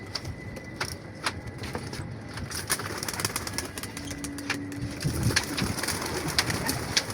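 Pigeons coo softly amid a busy outdoor wash of noise, with scattered sharp clicks and a distant engine hum.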